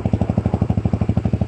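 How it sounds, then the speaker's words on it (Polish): A Romet Division 125cc motorcycle idles with a steady, even putter from its exhaust, rapid regular thumps repeating close up with no voices. "Cały czas słyszycie, jak sobie pyrka tutaj z wydechu. Dźwięk bardzo przyjemny."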